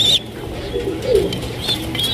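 Racing pigeons with chicks in a loft coo briefly and flap their wings close by, with a few faint chirps mixed in.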